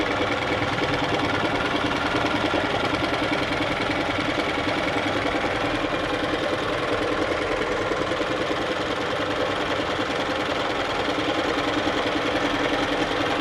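A heavy-duty sewing machine runs continuously in normal stitching mode, a loud, steady mechanical whir with a fast, even rhythmic clatter that holds without pauses.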